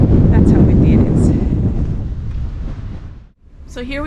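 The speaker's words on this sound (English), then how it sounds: "That's how windy it is." Cold, strong wind at a beach rumbles heavily across the microphone, easing briefly near the end before a voice begins to speak.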